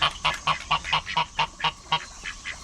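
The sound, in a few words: baby ducks quacking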